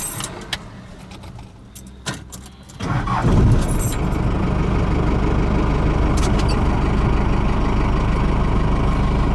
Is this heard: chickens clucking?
no